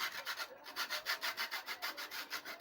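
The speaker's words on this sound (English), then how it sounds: "we are going to grate our nutmeg." A whole nutmeg seed is scraped across a grater in quick, even strokes, about a dozen raspy rubs in a steady back-and-forth rhythm, close and fairly quiet with no talking.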